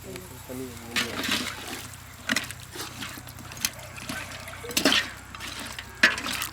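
Water splashes and pours into a pot of goat head curry in short bursts, enough to cover the meat, while a voice speaks quietly in the background.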